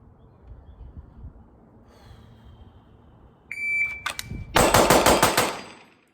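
A Staccato CS pistol fires a rapid string of about seven close, loud shots that follow a sharp electronic shot-timer beep after a few seconds of quiet.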